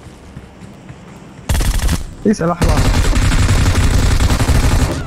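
Video game gunfire erupts suddenly into loud, sustained automatic bursts after a quieter start, with a brief break and then continuous rapid firing, as a player speaks briefly.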